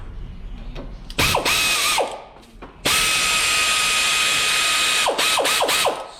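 Hand ratchet tightening a 6 mm inverted hex brake bolt on a Ram Promaster 3500 front brake, with close bursts of clicking and whirring in short passes, then a long steady run and a few quick final strokes.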